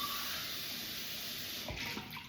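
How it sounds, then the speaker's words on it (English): Water pouring into a pot of rice, a steady splashing stream, fairly quiet and close, with a small clatter near the end. "So now I would add 2 pounds of water."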